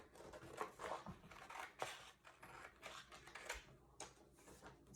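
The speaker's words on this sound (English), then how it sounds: "I'm going to cut mine out real quick so I can show you how to do one of these" Scissors snip through a pre-cut paper stencil in quick, uneven bursts of crisp cuts, close and fairly quiet, with no voices.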